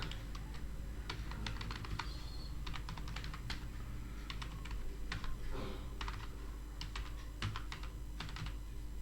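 Computer keyboard typing while entering journal entries in Tally Prime accounting software, with bursts of quick close clicks separated by short pauses over a steady low hum.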